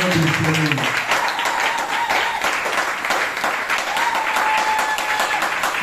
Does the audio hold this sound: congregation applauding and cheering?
yes